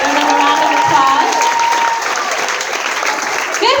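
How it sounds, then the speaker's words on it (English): Applause from a school audience for third- and fourth-year students as they stand, steady dense clapping filling the room with voices and cheers mixed in throughout. "Give them a round of applause."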